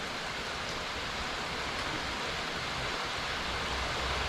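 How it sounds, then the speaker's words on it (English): Steady rain falls outdoors on a rainy day near Orlando, Florida, a dense, even hiss of drops that stays constant and fairly loud with no talking. "It's like white noise at night to help you sleep. The sound of rain."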